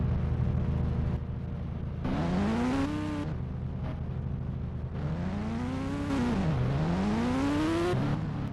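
A video game Hero Splendor motorcycle engine drones and revs repeatedly, its pitch rising and falling through gear changes over a constant loud hum.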